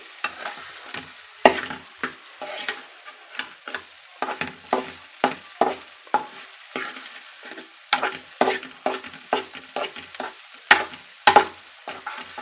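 A spoon scrapes and turns through velakkaya pulihora, tangy wood apple rice, in a pan with repeated rhythmic strokes and a faint sizzle underneath, close up, steady and unhurried, with no voices.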